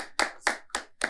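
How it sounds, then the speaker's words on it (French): Four slow, separate hand claps ring out on a TV show set, sharp and close and evenly spaced, with no talking. "On applaudit, on s'applaudit sur ce plateau."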